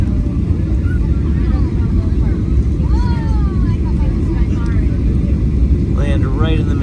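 An airliner comes in to land. A loud, constant low roar of engine and cabin noise fills the whole stretch, and passengers talk over it.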